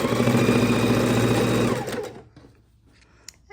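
A sewing machine runs a straight stitch through quilting scraps, a fast, even mechanical whir that stops abruptly after under two seconds, followed by quiet handling noises.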